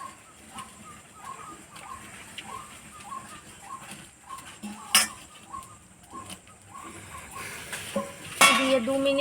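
Fried sweet potato pantuas are dropped into saffron syrup simmering in a pan, giving a series of light metallic clinks and scrapes from the utensil against the pan, with tonal background music throughout.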